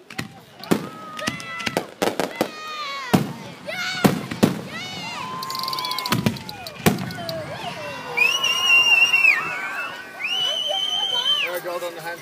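Fireworks at an ebb and flow display burst high overhead, with repeated sharp booms, crackling and whistling rising shells over roughly twelve seconds, while people nearby chatter and call out between the explosions.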